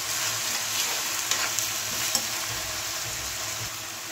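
Grated apple stirs and fries in a pan, giving a continuous bright sizzle broken by a few light scraping clicks from the spoon, close and fairly loud, with nobody speaking.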